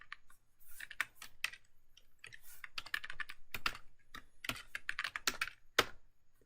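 Rapid, uneven keystrokes clatter on a computer keyboard while someone types out a C++ programming test case, bursts of clicks running steadily without any talking.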